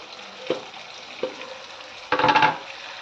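Chicken fries with tomato pieces in a pan, giving a continuous close sizzle with a few stirring scrapes and a louder crackling burst near the end.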